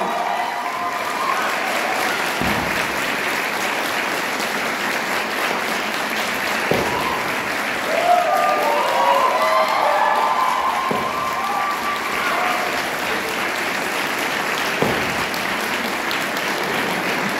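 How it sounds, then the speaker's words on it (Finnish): An audience at a Finnish upper-secondary music school's traditional old dances event applauds continuously for a long stretch, a steady wash of clapping with a few louder swells, while faint voices murmur underneath. "Aivan aplodit."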